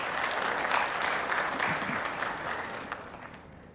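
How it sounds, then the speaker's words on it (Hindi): Audience applause welcoming a guest on stage at a televised Indian conclave, a dense burst of clapping from the crowd that gradually thins and fades toward the end. "मुरारी बापू जी, बहुत स्वागत, बहुत अभिनंदन, जोरदार तालियों के साथ।"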